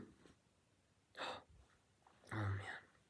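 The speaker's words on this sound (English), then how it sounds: "I'm gonna sneeze." A person sneezes indoors: a short sharp burst around the middle followed by a louder, breathy second sneeze near the end, close to the listener with quiet room tone between.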